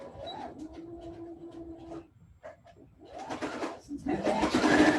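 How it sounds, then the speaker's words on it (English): A sewing machine stitches quilt binding, starting with a short hum and then running in a louder, rising burst near the end, close and clear over light handling noise. "I'm gonna start to sew right here"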